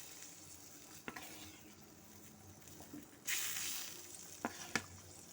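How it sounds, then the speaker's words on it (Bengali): Fried bhetki fish pieces drop into a simmering turmeric gravy, giving a quiet bubbling hiss. It swells into a brief louder sizzle midway, with a few sharp utensil taps around it and no speech. "এখন আমি এর মধ্যে ভেজে রাখা মাছগুলো দিয়ে দেবো"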